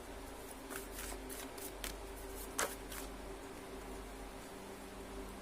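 Tarot cards are shuffled up close in a soft, brief riffling flutter, with a few quick card snaps over a steady hum of room noise, quiet and with no talking.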